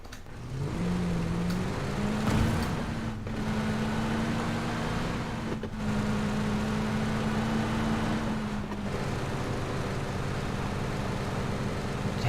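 A truck engine in a video game drones steadily for several seconds, rising as it accelerates and shifting pitch now and then, with a synthetic quality.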